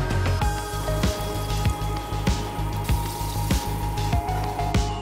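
Buttered bread rolls sizzle as they toast on a hot pan over low heat, a close, continuous crackle and hiss dotted with sharp pops and spits.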